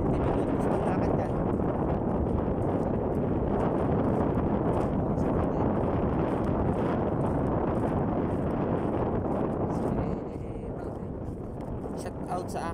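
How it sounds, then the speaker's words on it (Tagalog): Strong wind buffets the microphone continuously in a loud, rumbling roar while someone walks outdoors, easing slightly for the last couple of seconds. "Lakas ng hangin eh."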